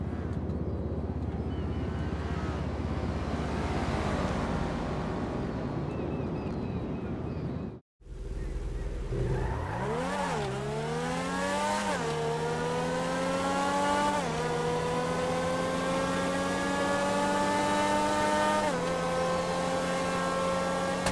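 The X80 Proto supercar from GTA Online revs hard, a loud droning engine that cuts out briefly, then climbs through rising gear pulls with a sharp, high whine, very close and continuous.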